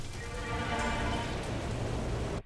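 Rain falling in a dinosaur cartoon, a steady hiss of rainfall that stops abruptly at the end.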